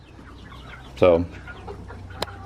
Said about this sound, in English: I moved the meat chickens out as well